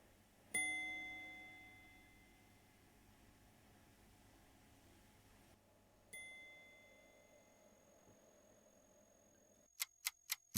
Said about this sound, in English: Go on, I'll let the sound of the bell play out.